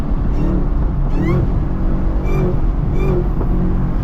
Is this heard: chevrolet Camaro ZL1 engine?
yes